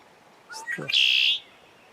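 A red-winged blackbird gives its call beside clear water on Wisconsin's Ice Age Trail, a single short gurgling phrase ending in a buzzy trill, clear and fairly close.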